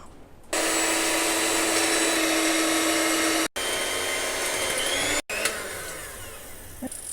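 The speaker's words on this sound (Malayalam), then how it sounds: "ഞാനിവിടെ 1/2 കപ്പ് വിപ്പിംഗ് ക്രീം എടുത്തിട്ടുണ്ട്. ഇത് നല്ലതായിട്ട് അടിച്ച് പതപ്പിച്ചെടുക്കുക." An electric mixer whips half a cup of whipping cream for a marble pudding, a loud steady whirring drone that cuts out briefly twice before running on, with no voices.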